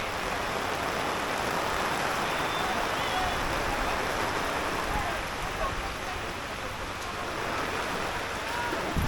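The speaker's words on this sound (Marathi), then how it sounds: "आताच ऊन होतं, ऊन असता असा पाऊस आलाय" Rain falling outdoors in the Konkan countryside during a sudden shower with strong wind, a steady broadband hiss of drops that stays dense and constant throughout, with faint voices in the background.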